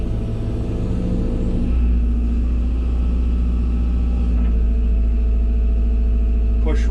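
Hyundai excavator's diesel engine rumbling steadily at close range, the tone shifting and deepening as the dipper is drawn in under hydraulic load, with an instructor's voice talking over it.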